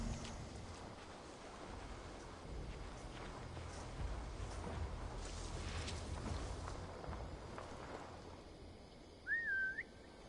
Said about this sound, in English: I don't know why I don't whistle, to be honest.